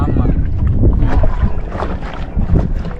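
Strong wind buffets the microphone while riding in a small fishing boat on the sea off Kattumavadi, a steady loud roar with water rushing underneath.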